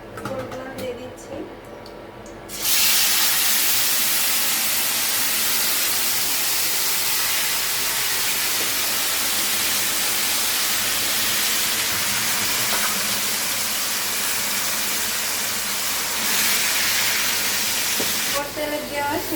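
Jujube (boroi) pieces drop into hot oil with fried cumin in a small kadai, setting off a loud, steady sizzling hiss that holds nearly throughout after a brief quieter start, with a voice speaking in the background.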